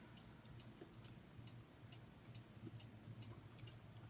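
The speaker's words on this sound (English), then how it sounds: "I already know I forgot to do the cuckoo clock" A cuckoo clock ticks quietly and evenly in a still room, its faint clicks running in a steady rhythm with no other sound.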